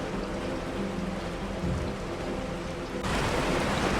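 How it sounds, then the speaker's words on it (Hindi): Heavy rain pours steadily outside as a loud, unbroken hiss that swells a little stronger partway through. "बारिश बाहर तेज हो रही है।"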